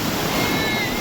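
Ocean surf rolls onto the beach at Kunkeshwar, a dense, steady wash of waves mixed with wind rumble on the microphone, loud and close for a brief moment.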